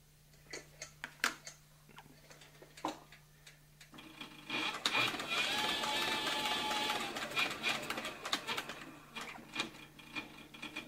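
A CB4500 industrial cylinder-arm triple-feed sewing machine gives scattered clicks, then runs in a steady whirring burst of rapid stitching before slowing back to sparse ticks, all close and fairly quiet.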